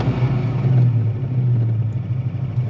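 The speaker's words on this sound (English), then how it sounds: "you're gonna floor it to get up over 2500 just real quick" A Ford Mustang Fox Body engine is floored briefly to rev past 2500 rpm, a loud close-up rumbling roar that holds steady, then settles toward a raised idle.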